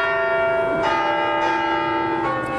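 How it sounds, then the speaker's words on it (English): Notre Dame cathedral bells ring with a steady sustained tone, struck strokes ringing out every half second or so over a continuous humming resonance. "the bells are now rung electronically"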